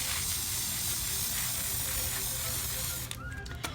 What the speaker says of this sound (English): I'm going to spray now